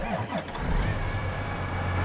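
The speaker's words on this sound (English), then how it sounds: "I'm gonna be quiet so you can hear that engine." A John Deere 9020 series tractor engine in Farming Simulator 22 runs at a steady low idle, a continuous deep rumble with a faint hum, heard alone without talk.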